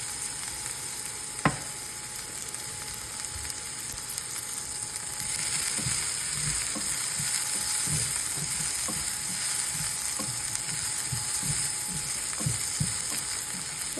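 Chopped shallots, green chilli, curry leaves, ginger and garlic fry in a pan for a Kerala fish roast, giving a quiet continuous sizzle broken by a sharp clack early on and a series of soft stirring scrapes and knocks.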